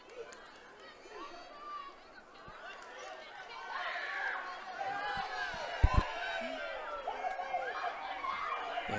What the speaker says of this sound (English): A little bit of crowd noise with the goalie going down there.